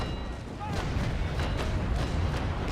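A naval cannon broadside rumbles in the Naval Action sailing-ship game, several overlapping booms rolling into a dense, continuous roar that fills the whole moment.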